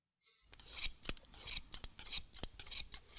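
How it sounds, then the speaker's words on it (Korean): A hairdresser's scissors snip quickly through hair, close crisp metallic cuts in a busy irregular rhythm with faint rustling between them. "미용사의 가위가 바쁘게 움직였다."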